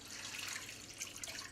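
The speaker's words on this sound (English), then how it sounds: "Then we'll go ahead and add our lemon juice." Lemon juice, about a cup and a half, poured over roughly 1.5 pounds of chicken in a pot, giving a soft, steady liquid splash and trickle that carries on without a break.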